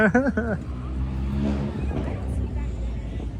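A loud car engine revs on a busy New York City street, a sustained low growl that fills the scene, with a person's voice briefly at the start.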